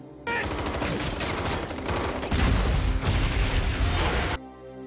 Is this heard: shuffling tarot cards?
no